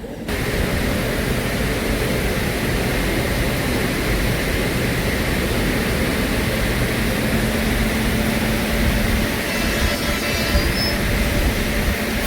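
A train sits at Koraput railway station while a locomotive is coupled on, giving a continuous loud rumble of rail machinery close by and a faint high squeal near the end. No distinct coupling clank stands out, and no one speaks.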